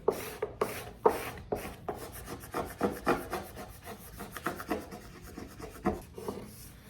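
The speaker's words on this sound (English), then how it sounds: "Make sure and rub over it as much as you can so that way make sure that it sticks good." A decal is rubbed down firmly onto a wooden noodle board in quick, rhythmic scraping strokes, close and fairly quiet, with no voices.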